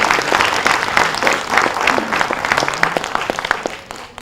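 An audience applauds after a stage play performance, with dense sustained clapping from many hands at fairly close range, some individual claps standing out as it thins toward the end.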